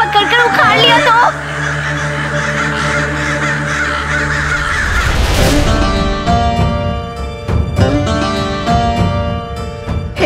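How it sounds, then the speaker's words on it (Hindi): Crows caw repeatedly in a loud, harsh series, joined by dramatic background music and sound effects that swell and then drop about halfway through, with no speech. "कौवे कभी भी आ सकते हैं, अब कैसे बचेगा रामा?"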